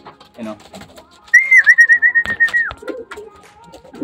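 A fancy pigeon gives a clear, loud whistling call, a steady wavering tone lasting about a second and a half. Scattered faint thumps and background sounds surround it.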